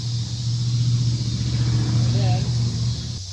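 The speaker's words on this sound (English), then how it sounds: "I'm gonna crank it, let it lubricate some of the cylinders" A 1992 Pontiac Firebird engine cranking after sitting for about twenty years, a loud, steady close-up drone held for about three seconds before cutting off, with a voice briefly over it near the end.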